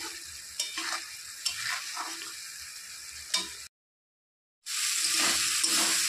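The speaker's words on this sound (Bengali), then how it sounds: "মশলাটাকে ভালো করে কষিয়ে নিতে হবে" Spice paste frying in a pan for a masoor dal dish, with steady sizzling and repeated scraping stir strokes. The sound cuts out to a brief silence, then the sizzle resumes alone with no talk.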